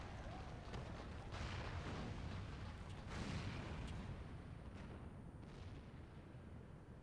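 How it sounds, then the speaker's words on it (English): Cannon fire from Castrum Urbania in the Final Fantasy XIV video game booms in heavy, rumbling blasts, a few dull thuds set against a continuous low roar of battle, with no speech. "Must have been the cannon at Castrum Urbania."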